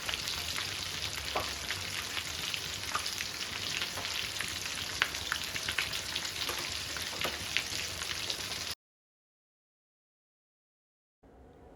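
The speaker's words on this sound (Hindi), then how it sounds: "बिल्कुल हाई फ्लेम पे I am gonna fry them until light golden brown" Cheese balls deep-frying in hot oil over a high flame, a steady close sizzle and crackle that runs alone for several seconds and then cuts to silence.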